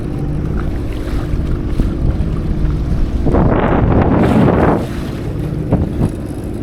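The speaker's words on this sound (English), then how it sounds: "Got at least 3-foot rollers now. I'm going into the waves." A FishPro Scout fishing boat pounds through roughly three-foot rollers on Lake Winnebago, a close, loud rumble of engine and wind noise with a surge of hull splash and spray midway through.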